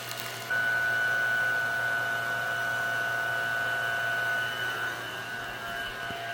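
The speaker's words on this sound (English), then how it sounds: "So I just stopped the pump for a minute" A vacuum pump holds a steady mechanical hum with a sustained high whine while drawing vacuum for carbon fiber resin infusion of truck bedside panels, constant and fairly close with no talk.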